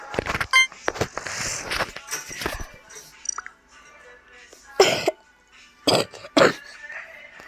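Several harsh, bursty coughs, loud and close, come in clusters at the start and again in three separate fits near the end, with quiet gaps between.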